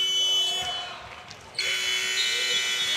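A basketball shot clock buzzer blares to end the second quarter of a USA versus Brazil game at the FIBA Women's AmeriCup, a loud steady electronic tone cutting in partway through over arena crowd noise.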